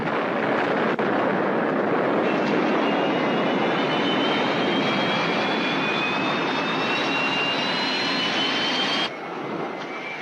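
An aircraft engine roars at full power ahead of ignition and takeoff, a loud continuous jet-like rush with rising whine tones, then dropping abruptly near the end.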